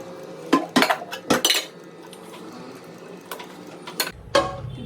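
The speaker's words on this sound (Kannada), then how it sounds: "ಇವಾಗ ಕುಕ್ಕರ್ ಇಡೋಣ." A pressure cooker set down on a home kitchen stove while preparing egg and chicken sambar, giving several close metallic clanks and knocks in quick succession, followed by quieter clinks.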